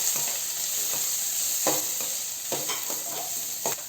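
Thinly sliced onion frying in a pan for an egg and flattened rice (aval) upma, with a steady sizzle and several distinct scraping stir strokes at irregular intervals, close and alone.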